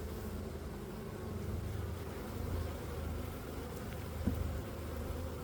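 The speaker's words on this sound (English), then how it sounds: "Every time I put back or pull out frame, the guard bees will come and kind of fly over me." Honey bees buzz in a steady low drone around an open beehive during a spring inspection in Melbourne, the hum swelling slightly as guard bees fly close, with no talking.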